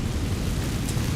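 A Confringo fire spell blast in Hogwarts Legacy makes a loud, continuous roaring rumble with dense low-end weight that holds steady from start to finish.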